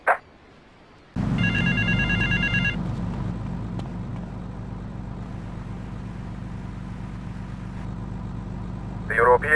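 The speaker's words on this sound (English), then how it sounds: "To the payphone next to the mall in Washington." In the game Grand Theft Auto: Vice City, a payphone near the mall rings in repeated electronic trills over a steady idling car engine, loud and close, with brief speech at the edges.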